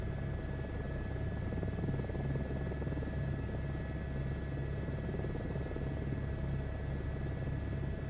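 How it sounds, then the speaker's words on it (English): A helicopter in Microsoft Flight Simulator 2024 gives a steady, loud rotor and engine drone with a constant low throb and buzzing hum that runs unbroken throughout. "Most people just want to probably hear the helicopter anyways"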